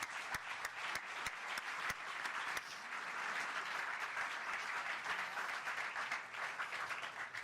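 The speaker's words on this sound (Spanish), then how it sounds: "yo les pido para ellos todo un fuerte aplauso" An audience at a water-sector leaders' panel applauds the panelists, with a few distinct sharp claps at the start before they blend into steady, even clapping from a crowd.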